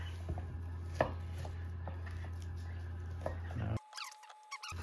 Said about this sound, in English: we're gonna take all our meat, which is partially frozen, and we're gonna cube it